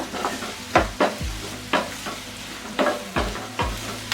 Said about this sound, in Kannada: ಎಲ್ಲನೂ ಸ್ವಲ್ಪ ಸಾಫ್ಟ್ ಆಗೋ ಗಂಟ ಫ್ರೈ ಮಾಡ್ಕೊಳ್ಳೋಣ